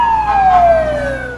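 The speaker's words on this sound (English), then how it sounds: "I still love hearing the sirens on a fire truck." A loud fire truck siren wails in a single falling sweep, strong and close, over a steady rumble of traffic, with no one speaking.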